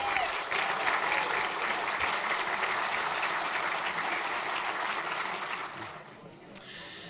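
Sustained applause from a banquet audience at an athletics alumni Hall of Fame dinner honoring inductees, loud and steady for about six seconds, then fading out.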